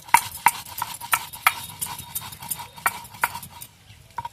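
Roasted cumin seeds ground by hand, a steady series of sharp, close knocks and scrapes repeating roughly every third of a second, fairly loud with no voices.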